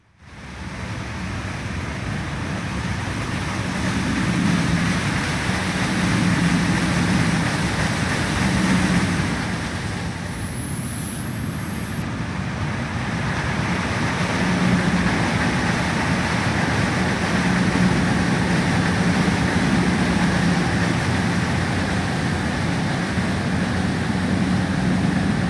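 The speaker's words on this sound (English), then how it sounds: "we'll also see the two BR423 versions, each arriving at and departing from a station" A DB BR423 S-Bahn electric train in a train simulator game pulls into Frankfurt Gateway Gardens station and leaves again, a steady broad rumble and hiss that swells and eases, with a brief high tone partway through and no voices.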